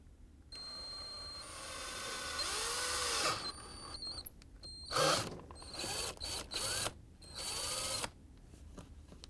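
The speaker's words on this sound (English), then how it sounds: "drill it through very slowly. Don't force it, just let the drill cut slowly." A power drill whirs and strains through plastic in several slow bursts, rising and stopping with short pauses between, close and clear.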